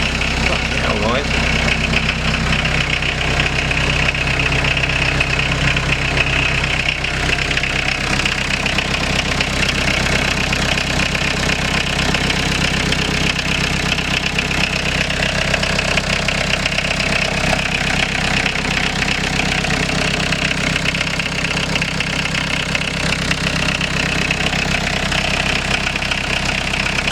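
A Peugeot 306 engine, first started after seven years locked up, idles roughly and loudly with no exhaust fitted, an unmuffled rattling drone; voices talk intermittently over it.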